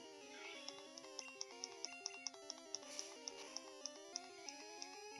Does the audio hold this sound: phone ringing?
yes